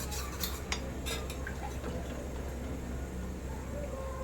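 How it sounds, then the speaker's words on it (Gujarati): Cocoa powder and cornflour being stirred into hot milk with a spoon, light clinks and scraping against the vessel over a steady low background hum, with occasional sharper taps. "તો આમાં ગરમ દૂધ રેડી દઈ થોડું થોડું જોઈતા પ્રમાણે, અને આપણે આ રીતે ઓગાળી લઈશું."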